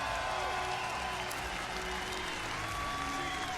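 Steady crowd applause with scattered cheering fills an arena at a Rainbow Six Siege esports invitational in 2023, a dense, even wash of clapping held at moderate distance for several seconds.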